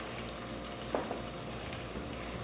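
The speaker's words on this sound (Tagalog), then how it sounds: "nilagay ko na ang ating egg, mainit na yung ating pan" An egg frying in a hot pan, a faint, steady sizzle running throughout with a couple of soft clicks near the middle, no voices.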